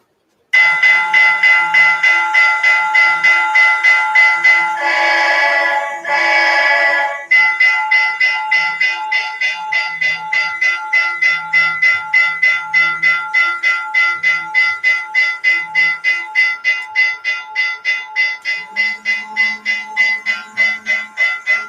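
Model trains run on a home layout whose route reaches a Chicago scene, giving a steady metallic clatter of wheels on track for the whole stretch, with a bell-like ringing tone, a brief louder burst midway and a quickening rhythmic clicking toward the end.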